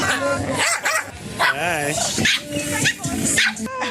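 Dogs at a pet gathering give short barks and a wavering whimper amid a lively crowd, mostly under a person talking nearby.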